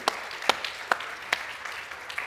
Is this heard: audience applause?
yes